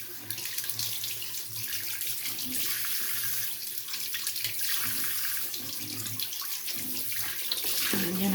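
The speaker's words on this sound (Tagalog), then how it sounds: "hugasan natin isa-isa" A tap runs steadily into a sink while fish bought at a market are washed one by one. The water flows as a continuous close hiss with faint splashing underneath.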